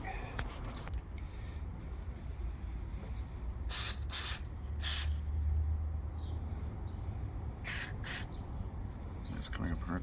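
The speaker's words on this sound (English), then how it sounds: "Spray some carb cleaner in there too." Short hissing bursts of carb cleaner spray, a few quick squirts in two clusters while working on a 1980 Yamaha XS650, over a low engine-like rumble and background noise.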